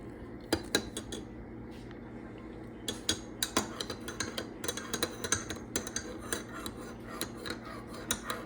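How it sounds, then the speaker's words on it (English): Iced drink of green tea with lemon and peach tea with ginger being stirred in a container, a spoon clinking and scraping against the sides in quick irregular taps, close and fairly quiet. "And just stir it up."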